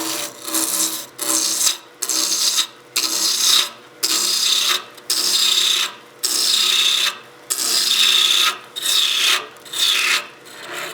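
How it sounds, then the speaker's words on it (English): A spindle roughing gouge cuts into wood spinning on a lathe, making a loud, harsh rasping roar in repeated bursts about a second long, each broken by a short pause as the tool is lifted and reapplied. "The nice thing about the spindle roughing gouge is you can take really big cuts, remove a lot of material really fast"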